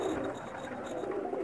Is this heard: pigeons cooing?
yes